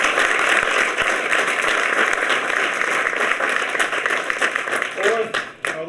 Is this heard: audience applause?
yes